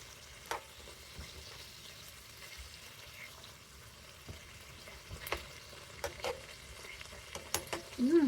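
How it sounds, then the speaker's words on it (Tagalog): Meat stir-fries in a pan for noodles with soy sauce and spring onion, giving a quiet, continuous sizzle broken by occasional scrapes and clinks of stirring. "Let's cook the meat properly or we'll burn."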